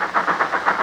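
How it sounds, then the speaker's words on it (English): A radio-drama sound effect of a train slowing down, set in a railway compartment: a dense, steady rumble with a soft, rhythmic chugging pulse that repeats several times a second, loud and continuous. "The train's slowing down."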